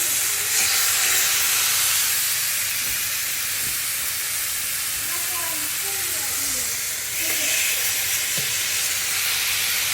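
Char siu pork sears meat side down in a hot pan, giving a loud, continuous hiss and sizzle with faint voices murmuring underneath.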